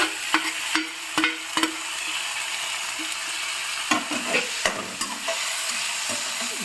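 Onions and tomato sautéing in a home kitchen pan for a Tamil lunch dish, with a low steady sizzle broken by sharp scraping stirs of a spatula against the pan, close and moderately quiet, no talking.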